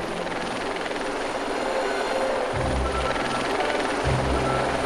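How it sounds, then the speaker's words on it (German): A helicopter approaches from a distance over a wedding party, its steady rotor thrum growing louder and deeper partway through and holding continuously to the end. "nähert sich aus der Ferne ein Helikopter"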